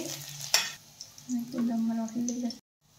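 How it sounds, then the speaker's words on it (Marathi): Chopped garlic and ginger fry in oil in a kadai for soya chilli, giving a steady close sizzle with stirring scrapes and a sharp clink early on, before cutting to silence. "त्यामध्ये बारीक चिरलेले लसूण घालून घ्यायचं आहे, बारीक चिरलेली अद्रक आणि ही 1 मिनिटभर आपल्याला छान तळून घ्यायची आहे"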